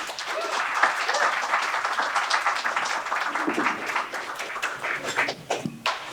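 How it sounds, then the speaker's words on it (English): Audience applause fills a small comedy club during a stand-up set, a steady dense clapping that holds for several seconds and thins slightly toward the end. "Applause for Vic Morrigan."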